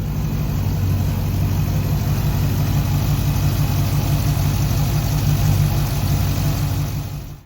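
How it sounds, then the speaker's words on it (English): A 2015 Dodge Challenger R/T Scat Pack engine idles steadily with a deep, low rumble and a constant, even tone throughout, fading slightly at the end. "I'll give you just a quick peek of the engine running"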